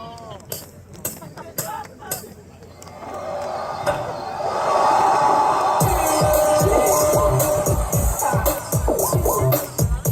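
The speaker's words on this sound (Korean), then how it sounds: "박수 많이 쳐주세요." A crowd at an outdoor Haeundae concert by a girl group cheers and claps in a swelling, sustained roar, joined by thumping music as the debut song begins.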